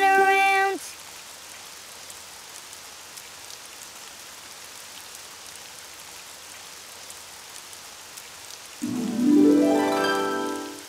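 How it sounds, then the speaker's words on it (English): Steady rain falls outside in a cartoon setting, a soft continuous hiss of drops on surfaces that carries quietly through the middle of the clip between louder musical passages at the start and end. "it's raining outside"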